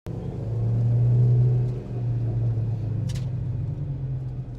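A Spoon-tuned EK9 Honda Civic Type R drives along, its engine a steady low rumble heard from inside the car that swells briefly, eases and then holds at an even drone.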